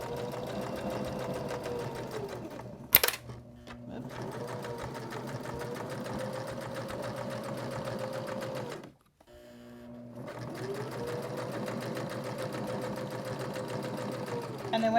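A sewing machine runs in steady bursts, stitching and back stitching a seam on an upcycled necktie purse, with brief pauses and a sharp click near the third second and a short stop before the motor resumes.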